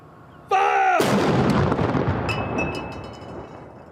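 A single naval saluting gun fires at Devonport naval base during a 41-gun salute, one loud, close boom preceded by a shouted order, followed by a long rumbling decay.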